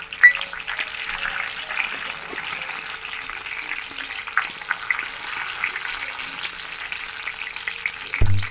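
Curry leaves and garlic hit hot oil in a kadhai for tempering, giving a steady, close crackling sizzle throughout, with a low thud at the end.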